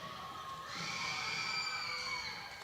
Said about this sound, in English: the crowd making some noise on the far side for the Lobos